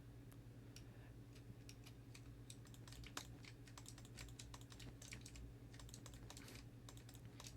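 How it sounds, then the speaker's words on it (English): Rapid clacking keystrokes on a loud computer keyboard, steady and close, running continuously over a low humming background with no speech. "sorry if my keyboard is like kind of annoying"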